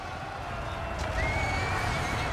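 A horse whinnies in the Lord of the Rings Conquest video game, a rising neigh over a rumbling battle din with hoof clatter, fairly distant and moderately loud.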